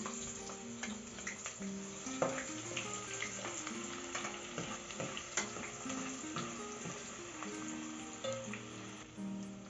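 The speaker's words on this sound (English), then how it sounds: "I'll start first by frying the onions" Onions frying in hot oil in a pot for vegetable rice, a steady close crackling sizzle with scattered ticks and utensil stirs, no voices.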